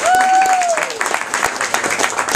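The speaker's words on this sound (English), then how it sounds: "Let's all stop clapping because we're freaking Frost out." Audience at a science fiction panel applauding, a full, busy burst of clapping with a short whistle-like tone early on.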